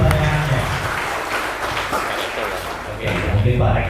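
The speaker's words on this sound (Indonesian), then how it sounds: "tepuk tangan dulu buat Kak Indah" Audience applause at a university orientation event (PKKMB UNKA 2024) fills the room, steady and dense clapping for a student who asked a question, with talk mixed in underneath.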